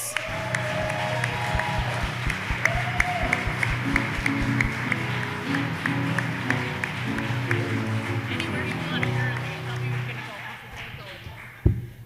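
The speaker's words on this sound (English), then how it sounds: "a round of applause one more time for Pat Harris!" Audience applause at a theater-style mayoral forum, steady clapping filling the room for most of the stretch, with voices talking over it, then fading near the end.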